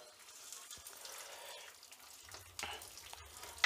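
Hot oil with garlic sizzles softly while tempering a Maharashtrian colocasia-leaf curry (alu fatfata), a faint steady hiss with light crackle, then a brief clunk and a low rumble toward the end.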